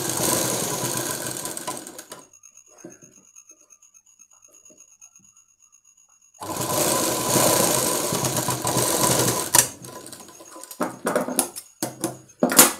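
A tailor's sewing machine runs in steady whirring bursts while stitching a blouse: a long run, a quiet pause with a faint tone, then another long run ending in short stop-start stitches, close and clear.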